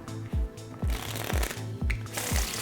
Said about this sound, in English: after a double undercut, to control the cards at the top, you want to keep shuffling